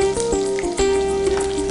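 Sliced garlic with green and dried red chillies crackles in hot tempering oil, a continuous close sizzle with small pops and no talking.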